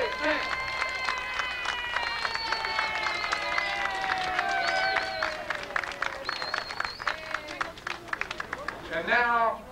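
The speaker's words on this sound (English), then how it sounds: "let's give him, the Saint, a real round of applause" An outdoor crowd at an air show claps and cheers for a veteran skydiver. Dense, steady clapping runs for about ten seconds, with voices mixed in, and a louder burst comes near the end.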